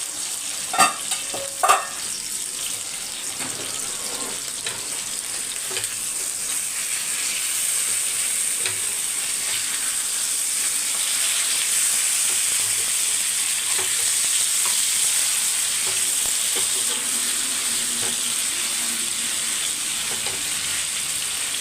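Mackerel-type fish frying in oil in a pan, a steady close sizzle and crackle with a few sharp clinks of a spatula as the pieces are turned, continuing alone without voices.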